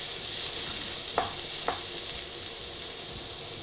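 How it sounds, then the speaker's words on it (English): Chopped onion goes into about a tablespoon and a half of oil in a pan on high heat, giving a steady, close sizzle of frying with two brief clinks or stirs partway through. "So I just got a pan on a high heat, and I'm literally going to add about a tablespoon or a tablespoon and a half of oil into the pan."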